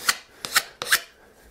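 Three quick rasping strokes of a hand tool rounding the edges of a wooden bow compass part, close and distinct, evenly spaced, with no talk.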